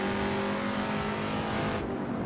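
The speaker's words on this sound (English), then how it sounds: "classic vintage car driving" A vintage car engine drones steadily in the Assetto Corsa racing game, a constant close motor tone that holds level throughout without clear revving.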